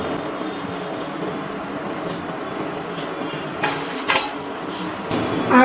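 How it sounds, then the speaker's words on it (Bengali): A raw mango drink with cardamom powder added is stirred in a container, with a steady swishing of liquid and a few clinks of a spoon near the end, close up and without speech. "ভালো করে নাড়াচাড়া করে মিশিয়ে নিচ্ছি।"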